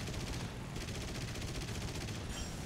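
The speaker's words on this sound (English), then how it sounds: "I did unload, I'd say, at least a good 100 rounds into the back of that P-39N." Twin 12.7mm machine guns of a Ki-43-II fighter plane firing in War Thunder, a continuous rapid stream of heavy shots rattling evenly throughout at moderate loudness.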